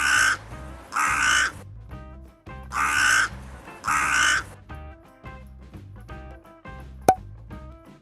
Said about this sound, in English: This is a crow.